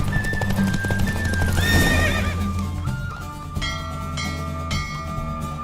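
A horse in The Witcher 3: Wild Hunt lets out a loud, prominent neigh over continuous galloping hoofbeats, the whinny rising sharply before the hooves carry on steadily.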